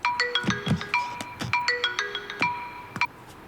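A phone ringtone chimes in a repeated electronic melody of short bright tones, fairly close and clear, while an outgoing call is placed, with no talking over it.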